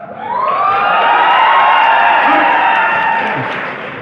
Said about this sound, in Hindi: कोई कुछ भी बोलते तालियां बजा लेना भाई